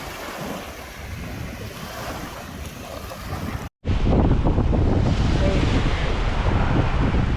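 Ocean waves wash steadily onto a Maryland beach on a bright day, a loud continuous surf roar with heavy wind buffeting the microphone, broken by a brief dropout before the rush resumes even stronger.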